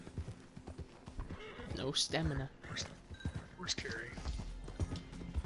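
Horse in the video game Red Dead Online: hoofbeats clop under loud, close talk, and a whinny rises clearly through the middle.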